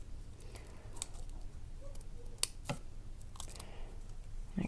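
Scissors snip through paper while a paper snowflake is cut out, a few sparse, faint crisp clicks and cuts close by in an otherwise quiet room.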